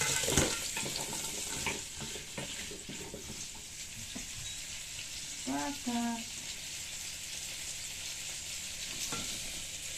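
Fish frying in a pan during home cooking, a steady sizzle and crackle of hot oil with occasional stirring clinks and a brief voice in the middle, fairly quiet overall.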